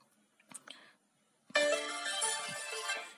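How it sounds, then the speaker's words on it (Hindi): A Redmi Note 9 Pro Max phone plays a ringtone preview, a bright dense melody that starts suddenly after a few faint taps and a soft murmur, then keeps going steadily at close range. "देखो, यहाँ आप अपना रिंगटोन भी चेंज कर सकते हैं।"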